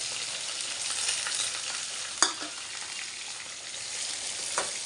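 Onions fry in a pan for a potato fry with a constant, close hiss, and a couple of quick clacks from a stirring spoon come through, without any talking.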